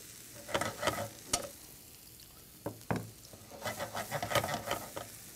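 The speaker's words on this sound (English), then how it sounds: "You add the bacon" Smoked bacon sizzles in a pan with scallions for a mussels appetizer, a steady fry broken by several sharp scrapes and knocks of stirring against the pan, close and fairly loud with no talk.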